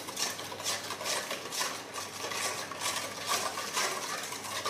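A spoon stirs a mixture of yeast and sugar in a vessel, producing a quiet, steady rhythm of scraping clinks against the sides, repeating roughly every half second.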